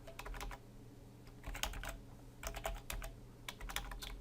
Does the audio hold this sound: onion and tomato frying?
no